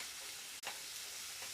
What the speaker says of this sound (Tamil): தக்காளி, வெங்காயம், கருவேப்பிலை தாளிக்க.